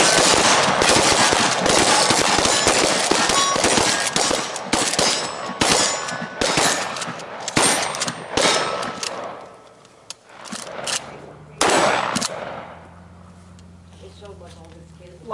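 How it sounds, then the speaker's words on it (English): A Remington 870 pump shotgun is fired repeatedly on a range during protective shotgun training, with loud, close blasts following one another rapidly. The shots fade toward the end, when voices talk over them. "Whichever direction you want, shoot them dry"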